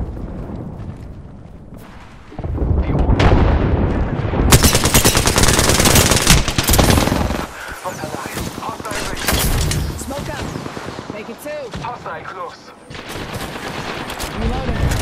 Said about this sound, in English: Shot fired. Taking fire.